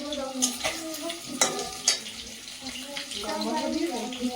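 Tupa fish frying in a home kitchen with chili paste, with soft crackling and sharp clinks of stirring utensils. Voices talk throughout.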